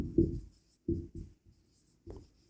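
A pen scratches out a worked arithmetic-progression math solution on paper: four short, quiet bursts of writing strokes separated by brief pauses, with no talking.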